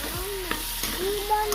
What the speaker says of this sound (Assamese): এতিয়া এইখিনি ভালদৰে ভাজি ল'ব লাগিব।